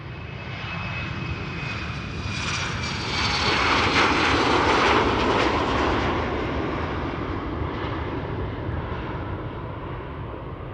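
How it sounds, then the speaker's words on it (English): A KLM Embraer 190 jet departing Amsterdam Schiphol for Hamburg roars past at moderate distance, its engine noise building to a peak midway and then fading slightly, continuous and unbroken by speech. "KLM flight 1753 to Hamburg. Embraer 190."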